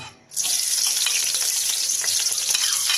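Onion hitting hot oil in a pan for sinigang with dorado fish, a sudden loud sizzle after a brief quiet start that then stays bright and continuous with faint stirring.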